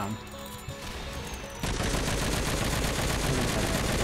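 Flak guns in Cortex Command open up into dense, continuous rapid gunfire that starts abruptly and holds steady and loud after a quieter stretch of game ambience.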